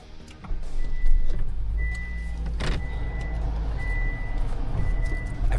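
A car alarm going off during a car theft in Chicago, a repeating electronic tone pulsing at steady intervals over rumbling engine noise and street sounds, fairly near, with no talk.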